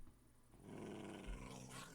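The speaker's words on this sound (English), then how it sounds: "Is that Jethro I hear growling?" A dog in Minecraft named Jethro growls low and rumbling for over a second, a quiet, sustained snarl rising after a short pause, with no talk.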